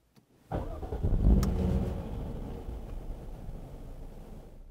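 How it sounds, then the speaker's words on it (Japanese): A 2017 Jaguar XE S engine cranks and catches with a loud burst that briefly flares in revs, then settles into a steady, close idle rumble. "ではエンジン始動していきます"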